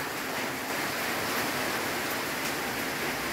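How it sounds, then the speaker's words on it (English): Heavy typhoon rain pours down in a steady, dense roar, a loud unbroken hiss with no pauses or voices over it. "It really gets some uh, heavy downpours."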